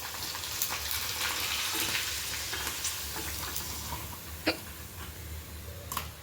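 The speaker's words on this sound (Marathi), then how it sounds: "आता कढई तेल गरम करायला ठेवलेले आहे एक पापड तळून बघू" Rice papad made from ration rice frying in hot oil in a kadhai gives a continuous bubbling sizzle with scattered sharp pops and crackles, heard close with no talk.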